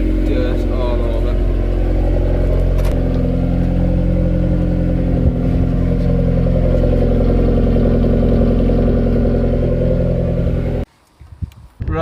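Honda Civic Type R, FN2 8th-gen, with a pop-and-bang remap on Hondata FlashPro, heard from inside as a loud steady engine drone through gear changes, cutting off abruptly near the end.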